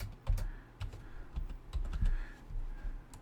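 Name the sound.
typing a password on a computer keyboard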